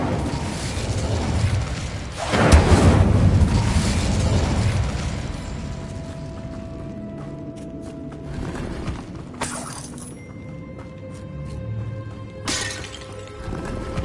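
A fiery Incendio spell bursts out in Hogwarts Legacy: a loud, roaring blast swells after a couple of seconds, then crackles and fades, with scattered clinks and a couple of softer magical flares later.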